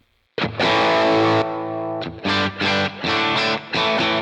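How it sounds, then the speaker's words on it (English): An electric guitar with a wah pedal and no Earthquaker Devices Plumes engaged plays a long sustained chord, then a series of short rhythmic chord stabs, loud and up close. "So there's my sound without the plumes."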